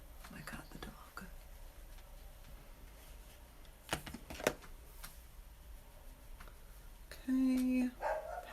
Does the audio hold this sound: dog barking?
yes